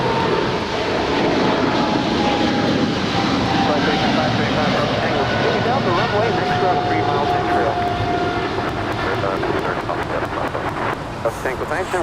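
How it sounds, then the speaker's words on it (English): An American Airlines Boeing 777-300ER, six years old and heavy, takes off for London Heathrow with a loud, continuous jet roar and a thin whine that slowly fades, and someone talks beneath the engine noise. "That was American 136 Heavy departing to London Heathrow. It's a 6-year-old 777-300ER."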